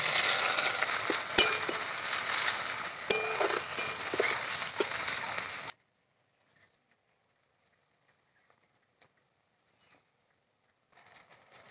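Chopped onion dropped into hot oil for a Bengali lote fish curry, giving a loud, steady sizzle and crackle with scattered sharp pops for about six seconds before cutting to near silence.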